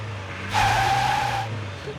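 A car's tires skid and squeal as the vehicle spins its wheels stuck in a forest, a loud sustained screech lasting about a second over a low engine drone, then easing off.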